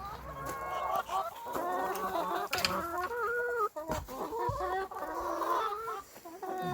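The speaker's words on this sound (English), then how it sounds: "I'll show you exactly what I mean by chickens enjoying this." Several chickens cluck and squawk continuously at close range, their calls overlapping in a busy, excited chorus.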